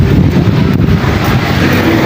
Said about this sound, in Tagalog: Malamig ang hangin.